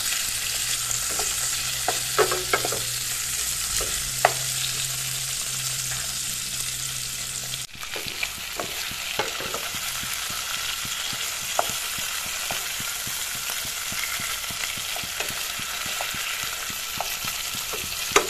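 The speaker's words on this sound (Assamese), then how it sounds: "এইখিনি এনেকৈ 1 মিনিটমান ভাজি লওঁ" Fried fish pieces and onions sizzle in a hot pan while a spoon stirs them, producing a constant close hiss punctuated by repeated scraping and clinking strokes, with a brief pause midway.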